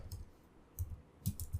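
A few soft keyboard clicks tap out in quick, quiet bursts, close by, with short gaps between them.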